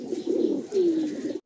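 Andhra high flying pigeons coo softly and repeatedly in a loft, close up, with a low throaty warble and no other sounds.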